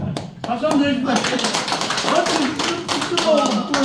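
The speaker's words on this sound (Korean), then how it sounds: "박수 한번 드립니다." Audience clapping at a lecture hall talk on Buan celadon and regional history, scattered claps building into a fuller round while voices talk over it close by.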